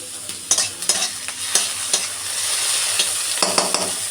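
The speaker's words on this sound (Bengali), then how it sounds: "বেশি ভাজাভুজি করবো না হালকা নাড়াচাড়া করে আর জল দিয়ে দেবো" Mixed vegetables are stirred in a frying pan, with sharp scrapes and clinks at an irregular pace over a constant close sizzle, and no voices.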